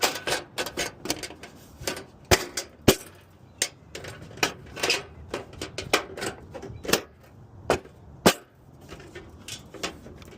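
Snips from hand shears cutting a 90-degree miter into a seamless metal gutter, a rapid irregular run of sharp metallic clicks and crunches, close and moderately loud.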